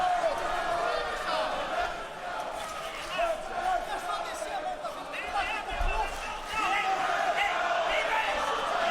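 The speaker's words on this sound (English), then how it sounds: "The crowd here in DC chanting, "Let's go, Impa, let's go."" A big arena crowd at a professional MMA fight in Washington, DC chants a rhythmic cheer for a fighter, a roaring, sustained mass of voices from a distance, with a commentator's voice running over it.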